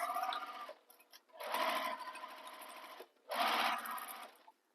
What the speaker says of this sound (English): We're going to sew the side edges, paying attention to how the seam allowance changes.